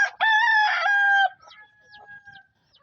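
Darag native chickens in a pen: one loud, close rooster crow lasting about a second, followed by softer scattered clucking and a faint trailing call.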